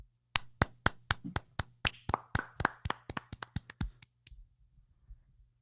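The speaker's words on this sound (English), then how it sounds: "Can I clap?" A steady run of sharp hand claps, around twenty in a row, close and crisp, quickening slightly before stopping, followed by quiet.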